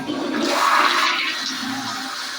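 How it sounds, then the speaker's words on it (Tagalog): A toilet in a private room's restroom flushes with a loud, steady rush of water lasting a couple of seconds and tapering off at the end, with no talking. "Ito yung kanilang bowl. Flush natin."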